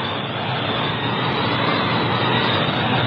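WWII Stuka dive bombers and Me-109 fighters attacking Allied landing craft in a harbor, a steady, loud roar of aircraft engines filling the whole clip without break.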